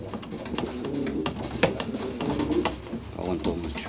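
Soft, muffled pigeon cooing from inside a closed space, low throaty coos repeating through steady rustling and background noise, with no clear speech.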